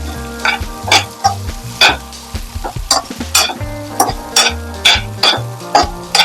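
Okra roasting in coconut oil in a pan, with loud, rhythmic stirring scrapes roughly every half second over a continuous close sizzle, and no voices.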